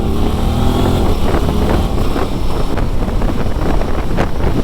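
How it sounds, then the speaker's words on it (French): Heavy wind blowing over an Alpine lake blasts across the microphone in a constant loud rumble, with no voices and a steady buffeting roar. "il y a un vent ici. Ça souffle dru sur le lac."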